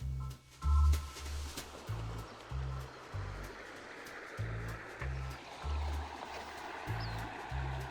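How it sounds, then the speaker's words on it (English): The Rio Grande runs through Santa Elena Canyon, a steady rushing wash of water close by. Low, rhythmic thumps sound underneath, likely wind buffeting the microphone. "we just hiked down to the river over here."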